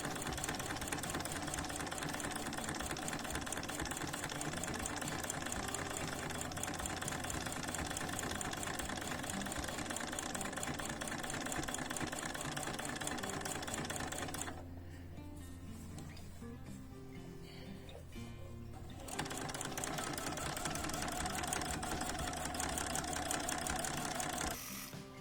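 A sewing machine quilting berry shapes in figure-eights runs in a steady, fast mechanical whir, stops for a few seconds, then starts again.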